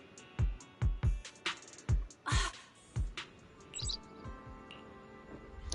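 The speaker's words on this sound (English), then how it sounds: "Bird!" Short bright bird chirps ring out in a Zenless Zone Zero scene, a rapid run of clear tweets followed by softer, scattered calls, with no voices.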